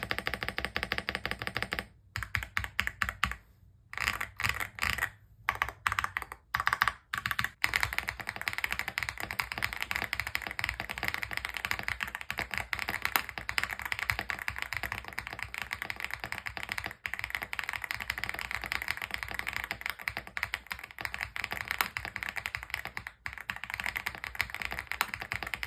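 Rapid typing on a LEOBOG Hi75 mechanical keyboard: a steady stream of close, crisp key clacks, broken by a few brief pauses early on, then running on continuously with no talking.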